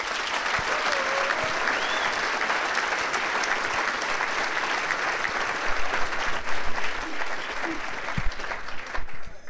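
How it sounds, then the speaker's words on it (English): An audience applauds loudly and continuously at a basketball Hall of Fame induction ceremony, a dense roomful of clapping with some scattered crowd voices and a few louder swells toward the end. "Judd Heathcote, I want you guys to give him a round of applause"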